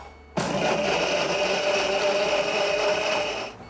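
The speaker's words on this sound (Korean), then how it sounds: "그 다음에 이제 건고추 불리는 걸 바로 갈겠습니다." A blender grinding soaked dried chilies with water starts abruptly and grinds steadily at full power with a dense whirring roar, running continuously before beginning to wind down near the end.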